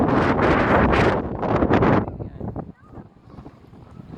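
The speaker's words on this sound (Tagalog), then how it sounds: "Ayan, hangin." Heavy wind by the seaside buffets the microphone in loud rumbling gusts for about two seconds, then eases into a quieter, steady rush.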